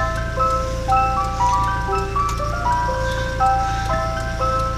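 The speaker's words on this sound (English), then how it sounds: "Camp Town Races, that's the name of the song." An ice cream truck plays the Camptown Races melody as a steady, loud chiming tune of distinct repeating notes, with a constant low engine hum running underneath throughout.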